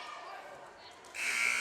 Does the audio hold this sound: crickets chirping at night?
no